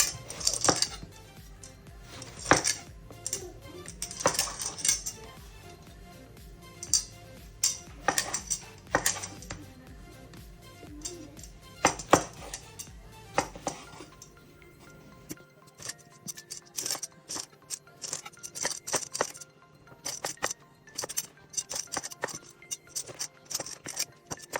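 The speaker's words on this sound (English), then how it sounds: "I'm now going to cut the potatoes into small chunks. I'm going to cut the aubergine into slices." A knife cutting potatoes into small chunks and an aubergine into slices on a board, heard as a run of irregular sharp knocks and clicks up close, with quieter scraping between strokes and no talking.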